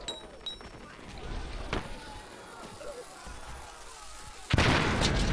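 A grenade explodes near the end with a sudden loud broadband blast that keeps roaring on, set on a World War I Marne battlefield in Valiant Hearts, after a quieter stretch of scattered battle thuds and distant shots.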